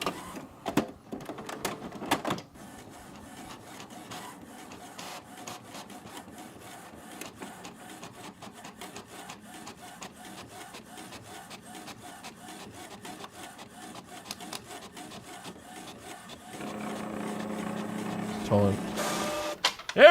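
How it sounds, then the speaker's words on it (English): A printer runs almost nonstop at close range, a steady mechanical whir and rasp broken by small clicks and taps, growing louder and busier over the last few seconds. "We're out of magenta on the printer."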